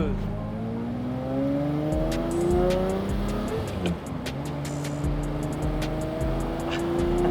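A manual-swapped Lamborghini Murciélago accelerates through the gears, engine pitch climbing and dropping at each shift with several distinct gear changes, loud and close.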